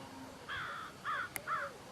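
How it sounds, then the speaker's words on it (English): Crows cawing in an outdoor hunting setting, three short harsh caws in quick succession, moderately close against a quiet background. "That and the crows."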